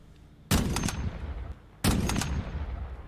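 Two loud bursts of close gunfire in Warzone Mobile, each a rapid volley of shots lasting about a second, separated by a short quiet gap.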